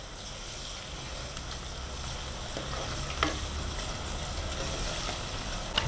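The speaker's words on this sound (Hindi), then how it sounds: "अब हम डालेंगे लहसुन का पेस्ट, अदरक का पेस्ट और हरी मिर्च कुटी हुई।" Garlic and ginger paste with crushed green chilies sizzles steadily in a hot pan, with a few sharp clicks of a utensil against the pan.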